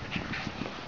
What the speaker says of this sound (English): they appear to be purebred cocker spaniels with their full tails